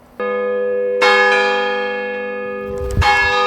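A loud church bell strikes several times, each heavy clang ringing out with a long sustained hum, close and dominant.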